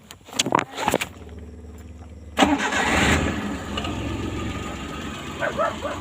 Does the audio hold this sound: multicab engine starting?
yes